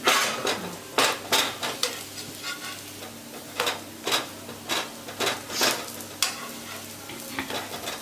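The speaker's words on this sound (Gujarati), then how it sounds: "મીડિયમ આંચે આપણે આ ભાખરીને શેકવાની છે" Methi bhakhari flatbread roasting on a pan over medium heat, pressed and turned with a soft repeated scraping and shuffling rhythm over a faint sizzle, close by with no voices.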